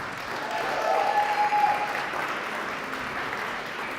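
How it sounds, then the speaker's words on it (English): An audience at a tech startup pitch competition applauds a fintech founder taking the stage, a broad, even roar of clapping that swells slightly in the middle and holds steady, fairly distant and sustained. "please give him a superhero round of applause for Jeff App."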